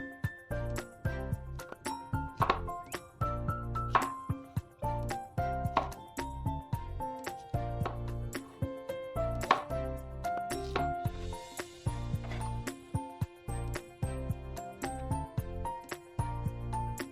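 A knife chops patty pan squash into pieces on a cutting board, sharp rhythmic knocks repeating steadily over background music.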